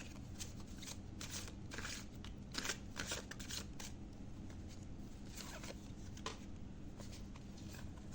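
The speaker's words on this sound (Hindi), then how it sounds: "करते हैं कार्ड शफल और देखते हैं." Tarot cards are shuffled by hand in steady, soft riffling bursts, close and fairly quiet, with no talk over them.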